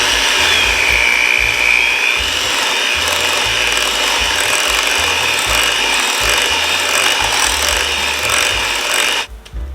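Electric hand mixer beating cheesecake batter after two eggs go in, a steady loud whirring drone with rhythmic scraping and thumping of beaters against the bowl, cutting off abruptly at the end.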